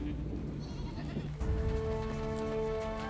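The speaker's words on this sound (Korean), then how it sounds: "마지막으로 양과 염소 같은 작은 동물들이 따릅니다." Sheep and goats bleat repeatedly as a herd trails behind on a snowy Mongolian winter trek. Several overlapping calls ring out close by and clearly, with no talk.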